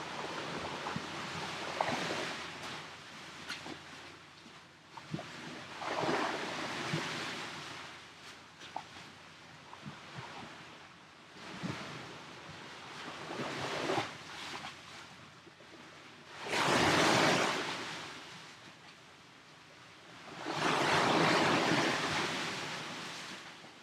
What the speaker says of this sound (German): Genieße das vom Rauschen des Meeres.